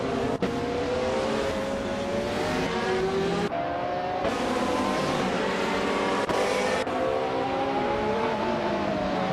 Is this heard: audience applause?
no